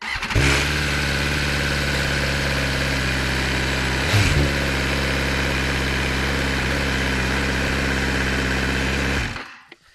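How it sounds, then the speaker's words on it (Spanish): A 2022 BMW S1000R motorcycle engine idles steadily and loud up close, a constant low mechanical drone with a brief rev blip partway through before cutting off near the end. "el motor lo habéis oído en marcha, así que simplemente al ralentí ya te avisa"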